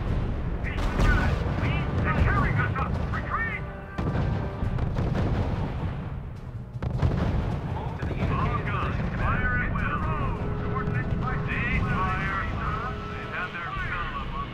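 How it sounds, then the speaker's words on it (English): Heavy gunfire and artillery rumble through a World War II battle in the real-time strategy game R.U.S.E., with repeated booming blasts and crackling shots under frequent radio-style voice reports, loud and continuous across the scene. "Unit reports heavy fire."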